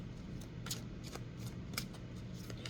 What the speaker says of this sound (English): Let's pull a card from the Love Oracle deck and see what else love wants to say